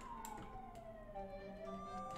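A police siren wails outside in The Sims 4, faint and distant, its tone sliding steadily downward over quiet background sound.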